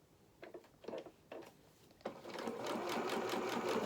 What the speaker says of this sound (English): you're going to sew down to a point at the bottom here